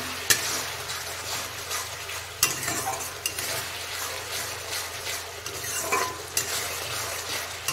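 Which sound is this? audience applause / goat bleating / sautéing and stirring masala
sautéing and stirring masala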